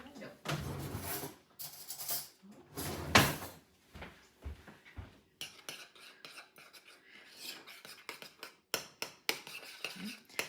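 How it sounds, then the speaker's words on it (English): A spoon stirs Parmesan, paprika and garlic powder into vegetable oil, giving close, irregular scraping and clinking strokes in bursts, some louder rasps early on, then quicker, lighter taps and rubs, with faint voices at times. "I'm going to start by mixing all of those ingredients into my vegetable oil"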